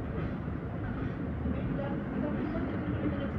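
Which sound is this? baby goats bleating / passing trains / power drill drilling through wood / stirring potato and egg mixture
passing trains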